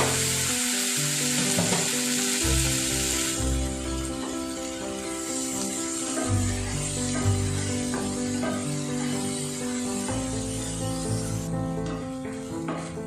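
Prawns rubbed with salt and turmeric fry in hot mustard oil with a loud, steady sizzle. A tonal background hum runs underneath, and no one talks.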